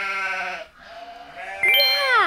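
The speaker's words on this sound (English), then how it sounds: "The sheep on the farm says ba ba ba ba ba ba ba ba ba." A sheep on a farm bleats loudly and close by in a single wavering call that rises and falls, a brief pause before a second strained bleat.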